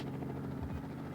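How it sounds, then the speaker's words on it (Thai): Rotor drone and low engine hum of a helicopter in the open-world mobile game Identity Forwarded, steady and continuous at moderate loudness with no speech. "จุดที่น่าสนใจก็จะเป็นเฮลิคอปเตอร์ลำนี้ท่านผู้ชมครับ"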